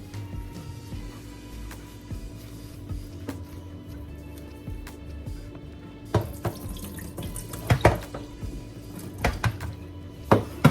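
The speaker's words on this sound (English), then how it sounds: "So here I'm just rinsing out the petals, making sure that they're as clean as possible before I put them on the cooker to boil." Rose petals being rinsed under a running kitchen tap: a steady, close stream of water splashing into a sink, with scattered clinks and drips in the second half.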